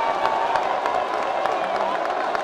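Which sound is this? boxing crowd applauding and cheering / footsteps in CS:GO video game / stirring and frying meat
boxing crowd applauding and cheering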